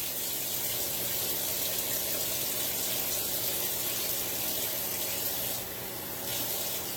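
Tap water runs steadily into a kitchen sink as a knife is rinsed off, a continuous close splashing hiss that dips briefly near the end.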